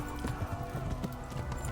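Horse hooves clip-clop in the Kingdom Come Deliverance video game, a quick regular rhythm of muffled thuds at a trot, close and steady over a low ambient background.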